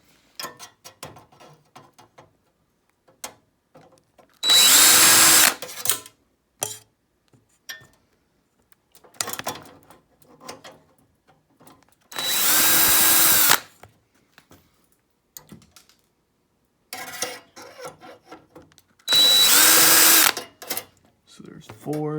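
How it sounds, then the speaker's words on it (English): A power drill whines loudly in three separate bursts of about a second each, removing screws from the top of a Tim Hortons commercial coffee machine being scrapped, with quiet clicks and handling noises between them. "Might take the drill and take these screws out that are on top."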